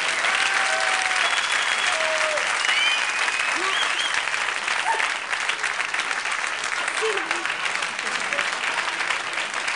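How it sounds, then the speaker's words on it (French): A theatre audience applauds a film's heroine as she comes out to greet them, sustained loud clapping throughout, with faint voices and whistles rising through the crowd noise. "Et vous pouvez applaudir très très fort."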